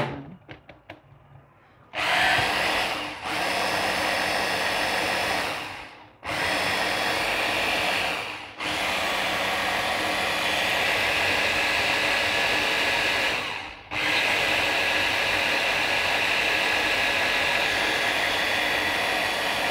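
A mixer grinder grinding ingredients for a summer drink roars loudly and steadily, stopping briefly three times before starting up again, with no talk over it.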